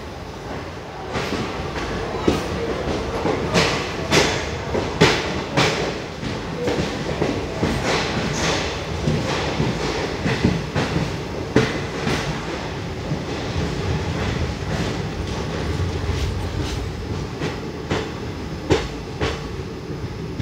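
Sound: express train running on rails, onboard 3A coach

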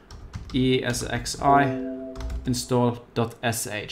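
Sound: typing on a computer keyboard

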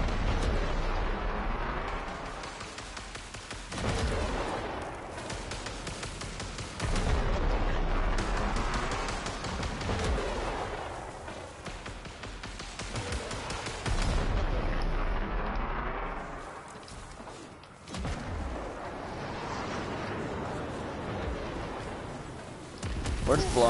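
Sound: grenades exploding in the video game Warframe

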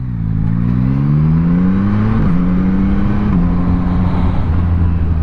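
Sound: heavy traffic on a coastal road

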